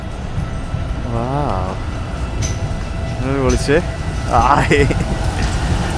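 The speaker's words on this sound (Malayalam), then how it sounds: "ഇത് ഒരു പഴഞ്ചൻ ട്രാം വരുന്നത്" An old green tram passes along a narrow, snowy street in Bulgaria, a steady rumble of wheels and motor that swells toward the end beneath someone talking close by.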